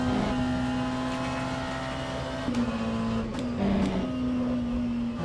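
McLaren Senna hypercar engine in the rFactor 2 racing sim, a steady droning note that holds level, dips briefly and climbs again, with faint clicks over it and no talk.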